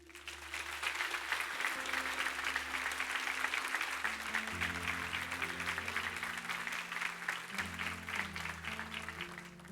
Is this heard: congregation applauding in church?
yes